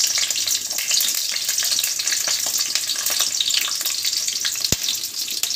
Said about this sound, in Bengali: রসুনটা তেলের মধ্যে দিয়ে দিলাম।